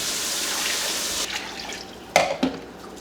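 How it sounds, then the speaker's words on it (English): A kitchen tap runs water in a steady hiss that stops after about a second, followed by a few splashy clatters and drips. "Let me get some water."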